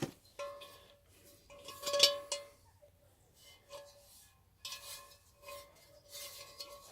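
A cast iron 5.6 L Dutch oven pot is handled, giving light metallic clinks, scrapes and rubbing knocks at irregular moments, close and fairly soft.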